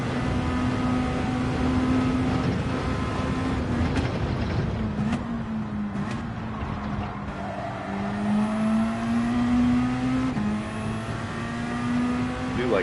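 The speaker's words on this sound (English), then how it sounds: "I do like how the RCZ sounds, especially downshift, you can hear that pop of the exhaust." Peugeot RCZ in Gran Turismo 7 at Dragon Trail, its engine droning steadily with pitch shifting through gear changes and brief exhaust pops on downshifts, close and continuous throughout.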